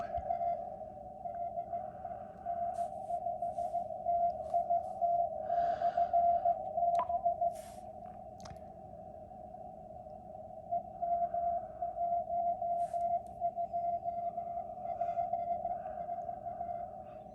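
Icom 9500 radio receiver putting out a steady, piercing carrier tone over a faint hiss, with intermittent bursts of garbled signal and static flickering in and out, no talking.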